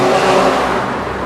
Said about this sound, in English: Sorry about the street traffic.